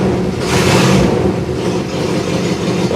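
A 1963 Oldsmobile engine idles just after starting, a steady close rumble with a brief rise in revs near the start.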